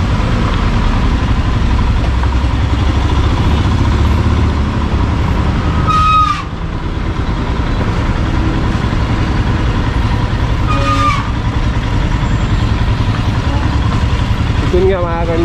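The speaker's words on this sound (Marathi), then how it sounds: "डोंगरा पाण्यात ना अशी गाडी काढावी लागते बघा." A vehicle engine rumbles steadily while off-roading through hillside water near a lake and dam, a loud continuous drone broken by a few sharp clicks and brief squeaks, with voices faintly present.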